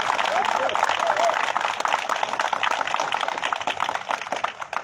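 Applause at a press conference announcing a mayoral candidacy, a dense burst of clapping from a gathered audience that starts strong and gradually thins out.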